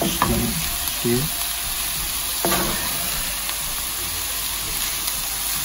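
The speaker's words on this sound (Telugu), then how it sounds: "give it a nice stir." Garlic rice frying in a pan while being stirred, with a constant hiss and sizzle and a few clattering scrapes of the spoon against the pan; no one speaks.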